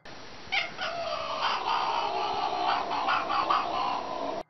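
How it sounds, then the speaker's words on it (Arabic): A cat makes a continuous throaty, warbling vocalization, close and fairly loud, with a few sharper rises near the start and a steady rolling texture through to an abrupt end. "قد تصدر القطة صوتاً يشبه صوت الغرغرة أثناء لعقها لشيء مثل الطين الرملي أو عند تناول الطعام"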